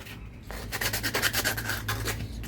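Wood on a hidden in-wall storage box is rubbed smooth by hand with 400 grit sandpaper, giving a close, continuous series of quick back-and-forth scratchy strokes with no talking.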